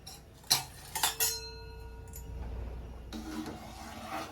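A metal ladle clinks against a cooking pot of simmering dal for a Tamil ponnanganni keerai kootu, giving three or four sharp close taps in quick succession, followed by a softer scraping stir.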